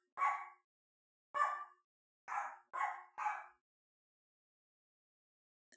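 A dog barks five times in quick, separate bursts, two spaced apart and then three close together, fairly near with silence between them.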